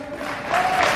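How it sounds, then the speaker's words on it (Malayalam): An audience at a motivational class breaks into applause, a dense burst of clapping that swells louder over one second. "നല്ലൊരു കൈയടി."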